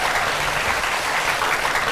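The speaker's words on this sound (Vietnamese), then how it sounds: "Mời mọi người hãy dành những tràng vỗ tay thật lớn" An audience at a children's music show for International Children's Day claps steadily, producing a thick, continuous wall of applause that stays loud and even throughout.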